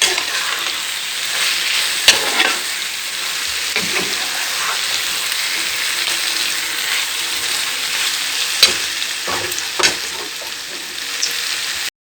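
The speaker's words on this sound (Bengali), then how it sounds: "আমি একটু নাড়বো এখন।" Til potol posto, pointed gourd in sesame and poppy seed paste, sizzles loudly and steadily in a pan, with occasional scrapes and knocks of a spoon stirring it and no one speaking.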